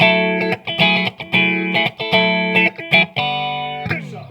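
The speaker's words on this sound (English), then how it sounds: "now we're going to take a look at the phase shifter from Akai" An electric guitar run through an Akai analog phase shifter pedal at 90 degree depth plays repeated strummed chords with a gentle sweeping phase, clear and close, with a final chord ringing out.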